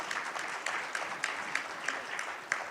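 Audience applause at a Joint Bureau meeting, moderately distant, a steady wash of many hands clapping with a few sharper claps standing out, no talk over it.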